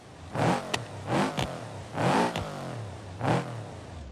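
A rally car in the BeamNG driving game revs its engine in repeated bursts, four rising and falling surges with sharp pops between them, loud and close with no talk.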